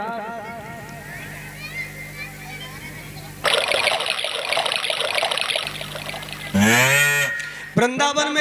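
Cows low in Vrindavan near the Yamuna river, with drawn-out moos early on and louder, close calls toward the end, over trickling water and a background voice.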